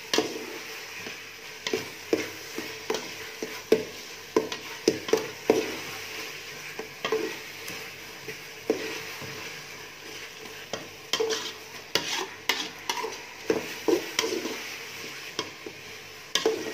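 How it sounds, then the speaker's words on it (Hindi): Pumpkin halwa with khoya being stirred and roasted in a pan: a spoon scrapes and knocks against the pan in irregular bursts over a soft, steady sizzle. There is no talking. "अब इसको मज़ीद 10 से 15 मिनट हम भूनेंगे जब तक खोया अच्छी तरह हल नहीं हो जाता।"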